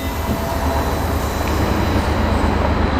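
A Heathrow Express train in motion gives a steady, loud rumbling roar with a constant low rolling noise inside the carriage and no speech.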